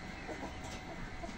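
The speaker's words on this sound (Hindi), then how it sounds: "ये जो है इधर वाइट कलर का मुर्गा बांध है, बड़ा प्यारा।" White rooster clucking in a brief burst of soft, close, low clucks over faint background noise.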